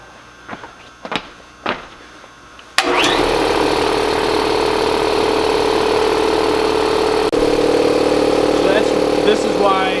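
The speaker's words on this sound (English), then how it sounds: "Let's plug it in and fire up our compressor." An air compressor for workshop air lines kicks on after a few brief knocks and sounds, then runs with a steady, fairly loud mechanical hum close by.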